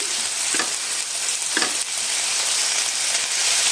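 Onions soften in a pan with a dense, loud, steady sizzle and a couple of brief stirring scrapes, and nobody speaks.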